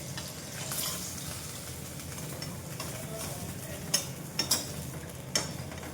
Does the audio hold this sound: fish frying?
yes